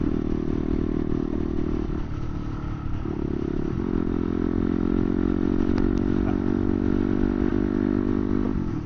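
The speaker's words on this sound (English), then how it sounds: "I don't know if you guys hear the turbo noises. The blow-off is loud" A turbocharged Yamaha YZ500F dirt bike engine runs with a loud, steady droning roar and clattering mechanical noise, its pitch shifting slightly as the throttle changes, with faint turbo whooshes and blow-off hiss.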